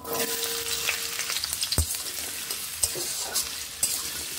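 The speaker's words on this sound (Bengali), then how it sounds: "এবার আমি এখানে গাজরগুলোকে ভেজে নিচ্ছি।" Carrots frying in a pan for veg dal, with a steady close sizzle and occasional sharp scraping stirs, and no talking.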